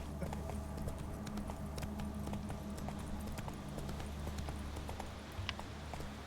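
Roach, a horse in The Witcher 3 video game, trots with steady clip-clopping hooves at close range, a continuous rhythmic beat over low ambient background sound.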